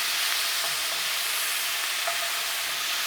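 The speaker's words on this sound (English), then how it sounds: "And give that a good stir." Beef frying in a pan is stirred, with a dense, steady sizzle and hiss throughout and only faint hints of utensil movement beneath it. Close and loud, with no speech.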